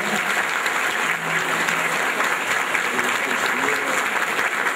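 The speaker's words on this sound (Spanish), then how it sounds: "Un aplauso para nuestro Señor." A congregation at a Catholic Mass for the Solemnity of the Ascension applauds in steady, continuous clapping that fills the space at an even level throughout.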